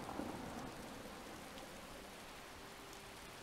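Rain falling steadily with a low rolling thunder rumble in the game Skyrim, a soft continuous hiss fairly faint in the background with no talking.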